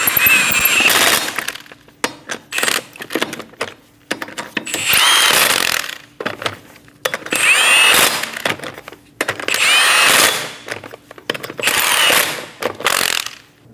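A power tool snugs down lug nuts on a 2008-2015 Scion xB in a series of about five short, loud bursts of whirring and rattling, with brief quiet gaps between them.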